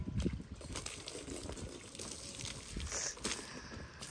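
Water is poured over a cow during bathing on Eid, a soft, uneven trickling and splashing with a few brief louder spills and no talk.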